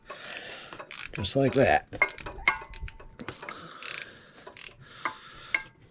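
A ratchet clicks in quick, irregular bursts while turning a bolt during a water pump change on a 1988 Firebird Trans Am with a 5.0 TBI engine, close up with metallic clinks and a brief spoken voice.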